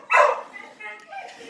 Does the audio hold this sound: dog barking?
yes